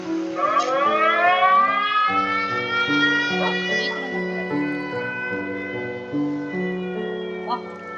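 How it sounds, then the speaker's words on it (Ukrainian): A wailing air raid siren heard during a Minecraft game, sliding up and down in long rising and falling sweeps over a steady stepped synth melody, loud throughout. "Увага! Повітряна тривога."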